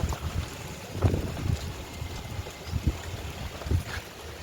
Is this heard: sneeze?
no